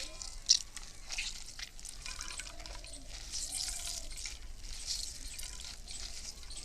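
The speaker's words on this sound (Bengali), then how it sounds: "এইভাবে লেবুগুলো দিয়ে চিপে চিপে রসটা বের করে নেব।" Oranges squeezed by hand to extract juice. Faint wet dripping and squelching sounds run throughout at a low level, with no speech.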